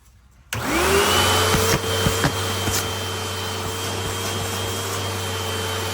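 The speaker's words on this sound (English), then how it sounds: "So now let's check the suction of the hose and see if it's any better." A Hoover Elite Rewind vacuum cleaner switches on abruptly and runs with a loud, steady motor whine while drawing suction through its hose, with a few brief bumps and a slight drop in pitch partway through.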